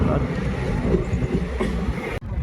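The Bhagirathi Express passenger train rumbles along steadily with wind noise over the carriage. The sound is loud and continuous, then briefly cuts out near the end, with a voice faintly present.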